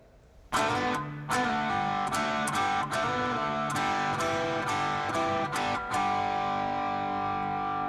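Distorted electric guitar plays a run of picked notes, strings sounding together and ringing out into a long sustained tone, no talking.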